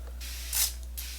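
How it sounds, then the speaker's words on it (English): Evian facial water mist sprayed from a can, a few short hissing bursts within about a second, one stronger and one fainter, close and soft. "now I'm just gonna go ahead and set my face with some of the Eviance facial spray"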